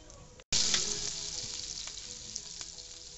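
Two tablespoons of oil and one of butter heating in a frying pan: after a brief cut, a bright, close sizzle bursts in and holds steady, slowly easing with small pops.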